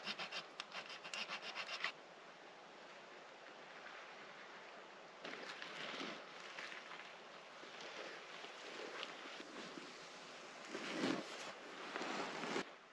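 Wood being trimmed outdoors for a primitive rock deadfall trap in Labrador, heard as steady close rasping, sawing-like strokes that run continuously with brief pauses and no talk over them.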